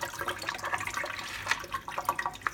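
Water splashes and gurgles as a sponge from an Aqua One canister filter is rinsed, a continuous close wash of running water with small bursts and squishes throughout.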